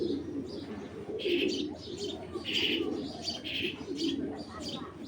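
A black racer male pigeon coos in low, rolling phrases that repeat steadily and close by, with occasional higher chirps and a faint murmur of background voices.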